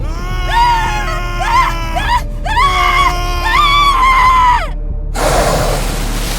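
Sustained scream as a body falls in a horror audio drama, cut short by a sudden loud splash and rushing plunge into icy cold water near the end.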